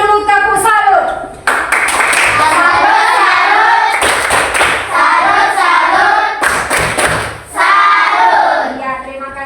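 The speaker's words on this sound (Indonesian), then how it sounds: "berikan dulu tepuk salut" A classroom group of students performs a rhythmic clapping cheer, loud, close hand claps in patterned bursts mixed with chanting voices, with brief pauses between rounds.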